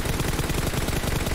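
Rapid M4 rifle gunfire from PUBG Mobile, loud and continuous in quick bursts with no talk over it.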